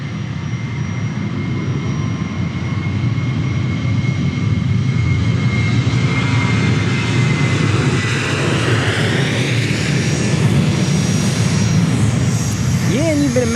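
A jet airliner departing Dallas Love Field thunders loudly and builds in intensity, its engine roar rising and shifting as it climbs away, with a person talking over it.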